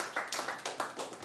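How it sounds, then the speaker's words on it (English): Scattered claps from a comedy club audience at a Toronto stand-up show, a handful of sharp hits in an uneven rhythm, fairly close and moderately loud. "Clap it up for him, man."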